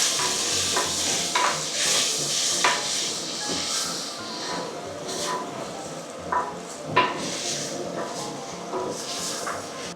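Onions sautéed in a clay pot for a beef curry: repeated scraping and clinking of a spoon against the pot at an uneven rhythm, over a light frying hiss, close and moderately loud.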